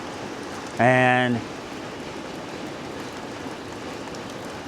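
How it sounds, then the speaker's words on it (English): Steady rain hisses evenly throughout, with a brief voiced syllable near the start and a short tonal sound over it. "it just started raining"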